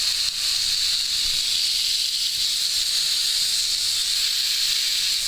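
A steak sears in a hot pan, giving a loud, steady, continuous hiss and sizzle with no pauses and no voices.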